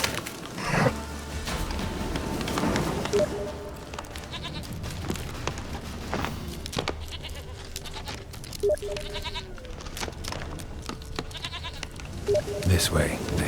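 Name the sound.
goat bleating, from the video game Witcher 3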